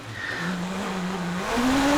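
A Gould hillclimb race car with a Nicholson McLaren V8 engine at a hillclimb course, its engine note droning steadily then rising sharply in pitch near the end, loud and continuous with no talk.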